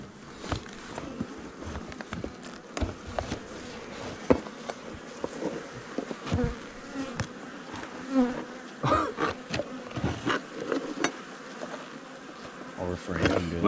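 Honey bees buzz around an open beehive that people are working on, a close, wavering hum that rises and falls as insects fly past. There is soft rustling and handling noise, and people speak quietly at times.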